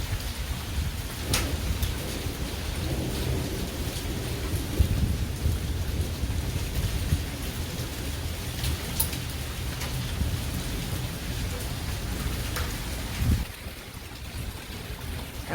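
A big thunderstorm with heavy rain hisses steadily throughout, while thunder rumbles low and sharp cracks break through now and then, close and full, with no talking.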